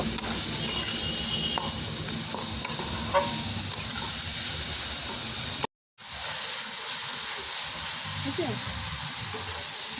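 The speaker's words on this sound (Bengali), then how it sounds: "দিয়ে ভালো করে গুড় আর নারকেলটা মিশিয়ে নেব।" Jaggery and grated coconut filling is stirred in a hot pan, with a steady sizzling hiss and scraping strokes throughout and a brief dropout partway through; no voice is heard.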